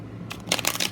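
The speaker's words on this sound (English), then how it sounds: "So, shuffle these real quick." A deck of tarot cards being shuffled, with a quiet pause followed by a quick burst of crisp, riffling card flutters close to the microphone.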